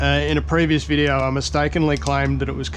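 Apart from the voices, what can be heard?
No everyday noises stand out.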